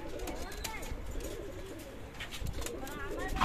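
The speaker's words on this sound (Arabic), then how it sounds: "نزل اهو اتنين اربع حمامات نزلوا" Pigeons coo and flutter while landing on a rooftop loft on a cloudy winter day, the soft cooing and wing noise close but fairly quiet, with someone talking over them.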